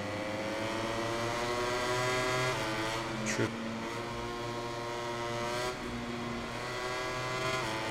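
MotoGP 21 racing motorcycle engine screaming at high revs in a video game, loud and close, with gear shifts dropping and climbing the pitch and a brief sharp burst midway.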